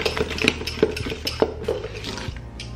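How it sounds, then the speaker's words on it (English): A spoon clinks and scrapes around a bowl while mixing thin egg pie filling with butter, a series of quick, close, irregular taps and swishes. "You're gonna mix it real well where everything is incorporated in it."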